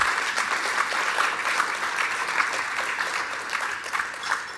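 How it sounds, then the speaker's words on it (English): Steady applause from an audience at an awards celebration, a dense wash of clapping hands that continues evenly throughout without any talking. "Yes, you can clap."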